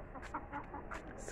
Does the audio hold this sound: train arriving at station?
no